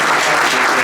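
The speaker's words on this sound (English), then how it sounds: "So how about a round of applause for the fellows?" Loud, dense audience applause filling a room at a season kick-off event for a group of fellows, steady and sustained throughout with no voices standing out.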